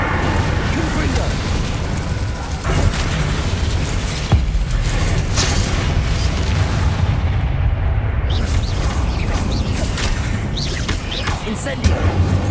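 Confringo spell blasts in Hogwarts Legacy go off as dull booms amid dense, noisy combat clatter, with a voice talking over the fight.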